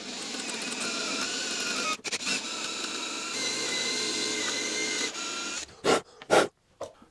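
A drill bores out a screw hole in an aluminum meat slicer with a steady, whining buzz that dips briefly. It ends in a few short bursts of drilling, close up and with no talk.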